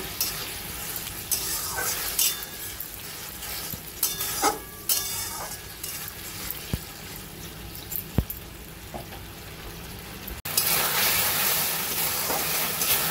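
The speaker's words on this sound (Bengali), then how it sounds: "এবার আমি ভেজে রাখা কর্নগুলো দিয়ে দেব, দিয়ে ভালো করে মিশিয়ে নেব।" Fried baby corn being stirred into simmering Manchurian gravy in a pan, a steady bubbling sizzle with scraping spoon strokes and occasional clinks, a sharp knock near the end before the sizzle grows slightly louder.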